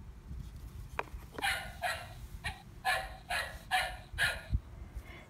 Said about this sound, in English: Did you hear the dog?